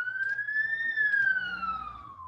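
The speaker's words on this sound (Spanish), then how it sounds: "Ahí viene la patrulla por mí." A police car siren wails past in one long rising and then slowly falling tone, loud and fairly close, with no talk over it.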